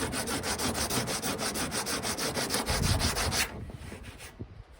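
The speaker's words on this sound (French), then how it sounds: "j'ai pris du 240, mais je vais peut-être aller avec un peu plus gros pour pouvoir bien poncer" Sandpaper worked back and forth over a roof box being repaired, a steady run of rhythmic scraping strokes, close and loud, then stopping abruptly near the end.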